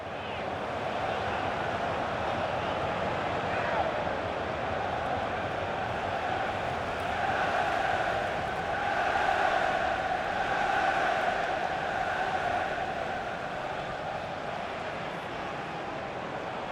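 A FIFA video game stadium crowd roars in a steady, sustained wash of cheering that swells slightly midway, broad and even throughout with no individual voices standing out.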